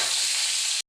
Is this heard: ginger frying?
yes